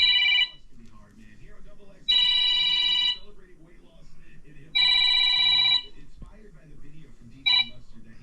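Electronic telephone ringtone sounds in four bursts, three long rings and a short final one, loud and close, with someone talking softly underneath between rings.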